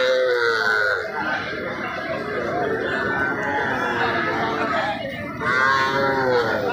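Young bull calves at a busy rural cattle market low with long, drawn-out moos that overlap one another, loud and close, while crowd chatter murmurs beneath them.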